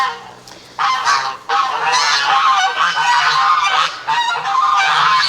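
Free-range chickens and roosters calling loudly and close, overlapping honking, squawking cries in steady rapid bursts that fill the whole stretch with only brief dips, no talk heard.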